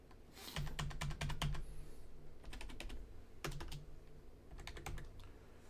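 Rapid clacking keystrokes on a computer keyboard come in quick bursts with short pauses between them, close and clear over a quiet room hum.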